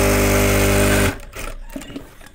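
An electric sewing machine stitches a children's panjabi with a loud, fast, steady whirring buzz close by, then stops abruptly after about a second, leaving quieter handling clicks and rustles.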